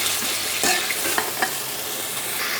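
Pieces of desi chicken fry in a pan with garlic, ginger and onion paste, a loud continuous sizzle broken by a few sharp spatula scrapes and knocks from stirring.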